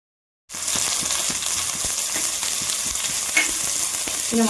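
Whole spices hit hot oil for a biryani and fry in a steady, loud, close sizzle that starts abruptly and crackles on without pause, with a few sharp pops and no talking.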